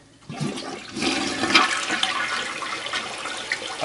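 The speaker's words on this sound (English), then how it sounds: "Try the flush test." A toilet that was just plunged to clear a clog is flushed, its rushing, gurgling water swelling after a quiet start and then draining steadily, close and loud with no voices.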